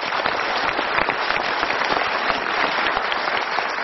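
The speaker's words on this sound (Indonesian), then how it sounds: "kita berikan tepuk tangan" An audience in a classroom or seminar setting claps steadily and loudly for several seconds, a dense unbroken wash of applause with no voices over it.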